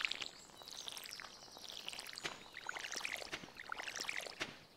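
Water pouring and splashing as a watering can is refilled in the farming video game Stardew Valley, a soft gurgling stream with bright bubbly bursts and a few chirpy game sounds, steady and moderately quiet.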